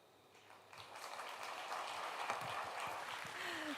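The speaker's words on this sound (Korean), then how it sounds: "따뜻한 박수 고맙습니다" Faint applause from an audience at a UNESCO heritage conference after a keynote, a soft, even patter of many hands that swells slightly in the first second and then holds steady and distant.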